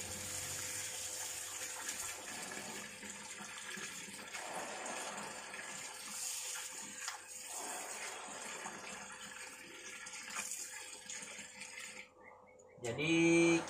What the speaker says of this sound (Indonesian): Jadi kita bilas, aduk sampai rata sehingga kotorannya terurai dan terlarut di dalam air yang ada di dalam bak ini.